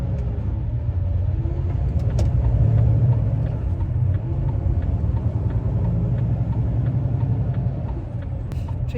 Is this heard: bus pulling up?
yes